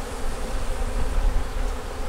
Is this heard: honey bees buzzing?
yes